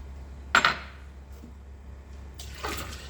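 Brief clatter of dishes in a sink, a sharp clink followed later by a splash of running water, fairly quiet.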